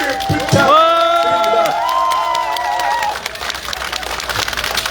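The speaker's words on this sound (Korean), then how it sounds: "뜨거운 함성과 박수" Crowd at an outdoor campaign rally held at a five-day market cheers and claps steadily throughout, while an amplified voice speaks over the noise near the start.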